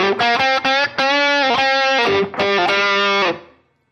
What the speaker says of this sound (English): The preamp distortion has a very different flavor